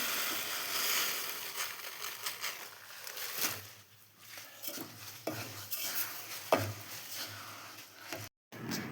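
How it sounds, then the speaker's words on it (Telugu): A spoon scrapes and stirs a sticky sesame laddu mixture with dates in a metal pot, giving soft repeated scraping strokes and a few sharper knocks against the rim, close and fairly quiet. "మొత్తం కలుపుకుంటున్నాను అంతా కలిసేలాగా"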